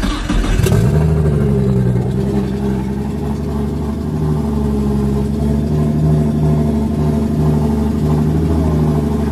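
A Nissan S14's engine cranks over and catches, then runs with a steady, loud droning idle and slight revving close by, with no talk.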